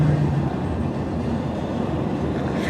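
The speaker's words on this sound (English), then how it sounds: "Hopper cars, oil cars, more hopper cars and oil." Freight train of hopper cars and oil tank cars rolling past slowly, a steady broad rumble with low rail noise throughout, close and continuous with no voices.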